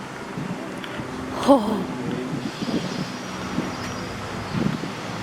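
Wind gusts outdoors near a large tree, rumbling and buffeting the microphone at moderate level, with a brief exclamation and faint passing traffic in the background.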